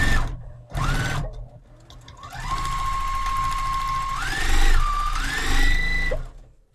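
A Juki sewing machine runs in steady bursts while stitching thick binding on a Christmas table runner, its motor whirring loud and close with rising and falling speed and brief pauses between runs.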